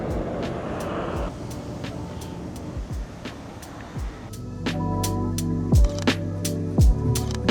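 Steady roadside traffic rumble with vehicles passing along a busy road, plus a few sharper horn-like or braking tones near the end; no talk.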